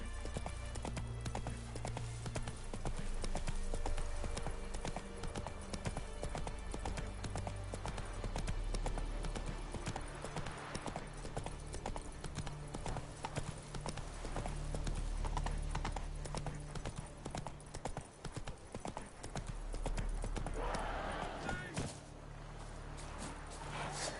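A horse gallops with a fast, steady clip-clop of hooves, urged on by its rider, over a constant low background rumble with occasional louder swells.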